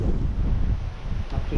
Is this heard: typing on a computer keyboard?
no